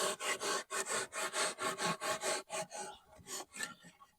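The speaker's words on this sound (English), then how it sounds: "I've got my old piece of timber, and we're just going to hack back and forward in a sawing motion" Old piece of timber hacked back and forth in a sawing motion across sand on a Mediterranean patio, giving a steady run of rough rasping strokes, about a dozen in quick rhythm, close and loud, slowing toward the end.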